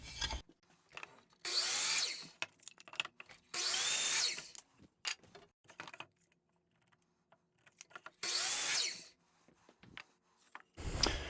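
Miter saw cutting a cedar board in a workshop, with three or four loud whining bursts of a couple of seconds each, separated by quieter handling clatter and bumps.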